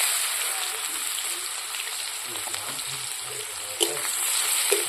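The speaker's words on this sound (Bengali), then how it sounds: "একটু ভাজা ভাজা করে নেব।" Chopped onion frying in oil in a pan, with cumin and bay leaf added, a steady close sizzle and crackle with a couple of sharp pops near the end.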